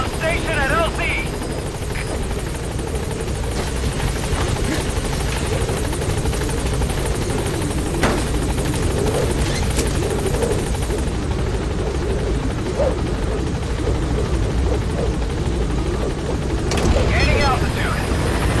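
B-Quad helicopter from Metal Gear Solid V hovering on station at a landing zone, a loud steady rotor drone and engine roar for the whole stretch, with a radio voice briefly over it.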